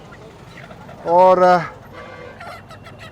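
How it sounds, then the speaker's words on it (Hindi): A rooster's crow rings out briefly amid a busy crowd at a village tribal market in Tamad, with people talking nearby and general market chatter underneath. "हज़ारों की तादाद में देसी मुर्गे"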